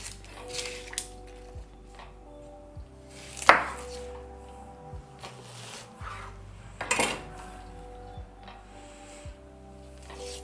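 A knife chops an onion on a cutting board for pumpkin soup, with irregular knocks and a couple of louder clacks over a low kitchen hum, no talking.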